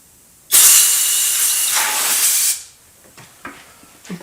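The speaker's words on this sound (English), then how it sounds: "Then we get some compressed air." A loud, steady hiss of compressed air blasts for about two seconds to expand rubber on a part clamped upright in a vise during work on an Indian Trailblazer motorcycle, followed by quieter clicks and handling sounds.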